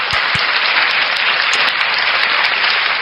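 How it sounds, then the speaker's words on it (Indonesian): Dense, steady applause fills the whole moment, a continuous wash of many hands clapping at even loudness with no voices over it, during a religious talk. "Tepuk tangan."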